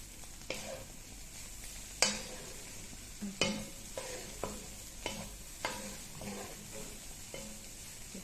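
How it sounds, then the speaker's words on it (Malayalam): A spoon stirs bread and egg with coriander leaves in a pan, giving soft scrapes and a few sharper taps over a faint steady sizzle, close and quiet with no speech. "ഇനി നമുക്കിതിൽ മല്ലിയിലയും കൂടി ഇട്ട് ഇളക്കി"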